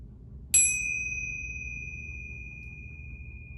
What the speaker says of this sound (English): See if you can listen to all the different sounds of the bell as it gets quieter.